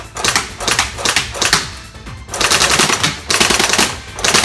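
An Elite Force IWI Tavor 21 Elite Series bullpup airsoft rifle firing on a range: rapid, loud mechanical bursts of clattering shots, close up, with brief pauses between strings of fire and no talking.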